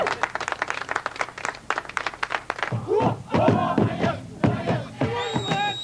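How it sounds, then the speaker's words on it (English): At a boma welcome ceremony of feasting at Hippo Hollow, a crowd claps in sharp individual strikes, then voices and chanting rise with uneven clapping and thumps mixed in. "Big applause before the boss dance,"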